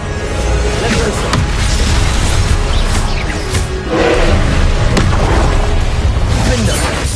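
Confringo fire spell cast in Hogwarts Legacy, a loud booming blast with crackling bursts, repeated amid continuous battle noise and other spell effects.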